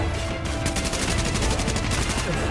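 Gunfire in Tom Clancy's The Division, a rapid string of close automatic shots in quick succession over a rumbling game background, loud and continuous.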